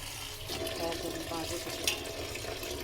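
Running water splashing while mustard greens are washed in a kitchen, a steady close trickle and rinse with small splashes and faint background talk.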